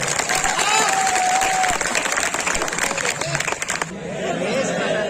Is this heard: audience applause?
yes